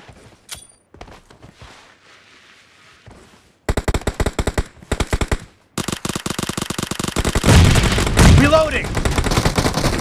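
An UZI submachine gun fires in a team-match shooter game set in a warehouse. Light footsteps come first, then loud rapid bursts and a long sustained stream of close automatic fire, with game voices mixed in.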